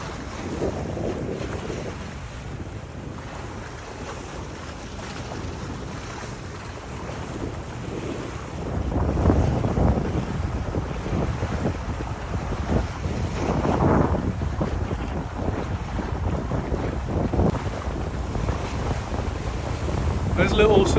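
Steady wind roar and washing waves aboard a single-handed sailboat with about 9.5 knots of wind on the port beam, a constant loud rush with swelling surges and microphone buffeting throughout.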